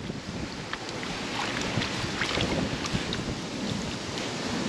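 Strong wind roars and buffets the microphone continuously, a rough, gusty rush with no voices.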